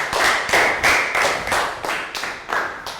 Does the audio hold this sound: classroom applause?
yes